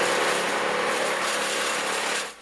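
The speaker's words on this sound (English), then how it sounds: "The sound of chippers and chainsaws can be heard in many neighborhoods around Goleta and parts of Santa Barbara." Power tools grind and buzz loudly and continuously, fitting wood chippers and chainsaws clearing storm debris in Goleta neighborhoods after a windstorm, before the noise cuts off abruptly near the end.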